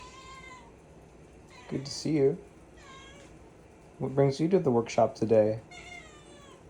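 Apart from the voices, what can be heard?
pet cat Pepper meowing in workshop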